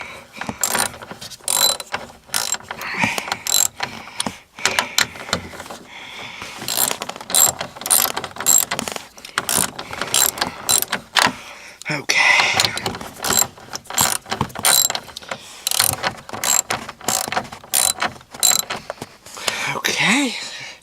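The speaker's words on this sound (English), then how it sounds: "First, make sure your ratchet is on." A ratchet set to tighten clicks rapidly in repeated bursts while driving the mirror nuts on a 2001 Ford Taurus, each stroke a sharp, close run of metallic pawl clicks separated by short pauses.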